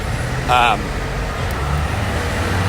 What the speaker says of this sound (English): as that bus honked me